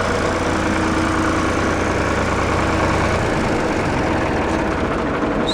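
Tractor engine idling after being re-cranked, a steady low rumbling drone with constant vibration, close and loud throughout.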